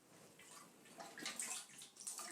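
Water flows out of an FS plumbing pipe in a soft, steady gush with a slight splash that swells partway through, faint and close with no voices.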